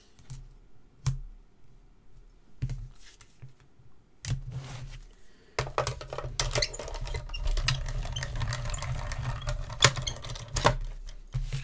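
Green cardstock being die-cut with a thick die in a card-making session: scattered clicks and taps at first, then a dense, steady mechanical cranking whir through a die-cutting machine, close and fairly loud.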